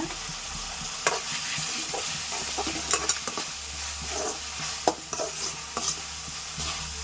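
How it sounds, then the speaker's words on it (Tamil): Green chillies and coriander powder sautéing in a pan on the way to a broad bean poriyal, with a steady sizzle and intermittent stirring scrapes throughout. "நல்லா வதக்கிக்கலாங்க. பச்சை மிளகா சேர்த்துக்கோங்க."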